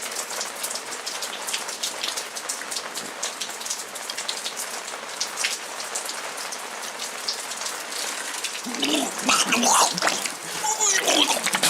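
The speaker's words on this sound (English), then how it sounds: "I'm just going to sit out in the rain" Steady rain falls outdoors, pattering and splashing on surfaces nearby, with heavier, closer splatters near the end and a faint voice briefly audible.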